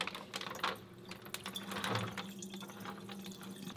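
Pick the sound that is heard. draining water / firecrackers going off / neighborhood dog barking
draining water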